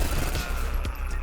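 Shotgun fire in the video game Echo Point Nova, several sharp blasts in quick succession, loud and close amid continuous game noise.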